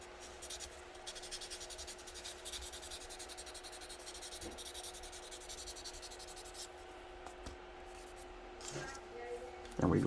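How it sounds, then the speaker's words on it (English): Fine-grit sanding on a small Tamiya Mazda RX-7 model part, a soft rhythmic rubbing and scratching close by, faint and steady with short pauses, under quiet talk. "And a little more sanding just to smooth it out."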